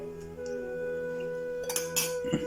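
Banana flower and horse gram are stirred together in a pan, with a few close scraping, clinking strokes of a utensil near the end over a steady background hum.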